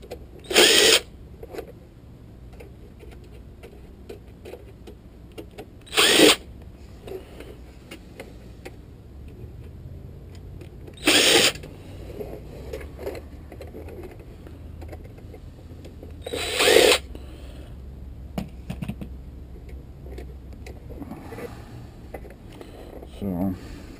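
A power drill runs in four short bursts spaced several seconds apart, backing screws out of a Blu-ray DVD player's casing. Faint handling clicks and low background noise fill the gaps.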